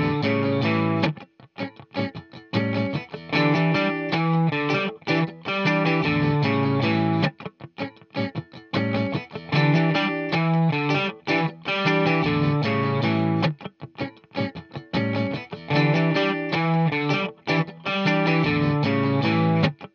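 Distorted electric guitar plays a lead line over a choppy rhythm part, staccato and punchy with short gaps, loud and continuous for the whole stretch.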